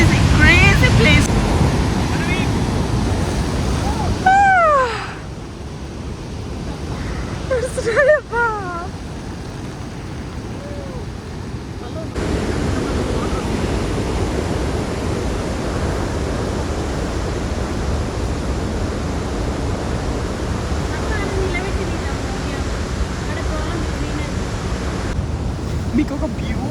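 Victoria Falls in Zambia roars as a steady, broad rush of falling water, loud and continuous throughout, with a couple of brief whistling bird-like chirps early on.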